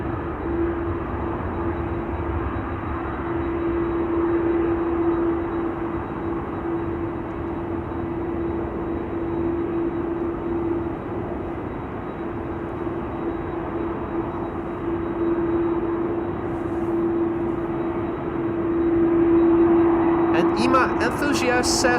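A business jet landing at Amsterdam Schiphol, with bucket-type thrust reversers, produces a steady droning engine rush with a persistent tonal hum, swelling toward the end, while a person talks over it.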